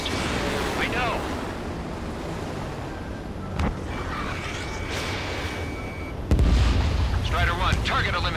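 Aerial combat in Ace Combat 7: jet aircraft under fire, with a steady roaring rush of engines and wind, a couple of sharp distant gun bursts and a heavier loud burst near the end, while voices talk over radio chatter.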